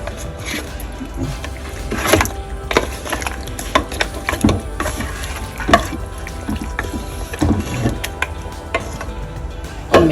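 Wooden spatulas scrape and knock repeatedly through kappa beef biriyani in a non-stick pot, a busy, uneven stirring clatter over a steady frying sizzle.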